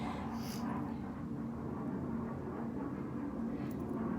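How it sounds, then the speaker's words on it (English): A military jet from the nearby Fallon base passing overhead: a steady, broad roar that holds at constant loudness throughout, moderately distant and continuous, with no other sounds standing out. "I'm really sorry about the jet noise. We live in the flight path of Fallon's base."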